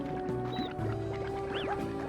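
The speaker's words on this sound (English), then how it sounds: "I hear baby chickens, but I don't hear big boys." Baby chickens chirp in the game Slime Rancher 2, several short high peeps scattered over a steady synthetic game backdrop with soft thuds and low hum.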